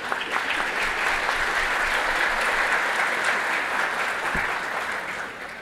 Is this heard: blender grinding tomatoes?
no